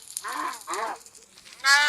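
A Minecraft chicken clucks in the Pocket Edition: two short, nasal bursts in quick succession, then a brighter squawk at the end, loud and close, with no talk.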